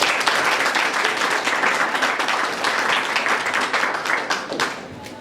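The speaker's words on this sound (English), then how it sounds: "So if you all just give her a round of applause." An audience at a civil rights roundtable discussion gives a warm, dense round of clapping, close and steady, tapering slightly toward the end without any talk over it.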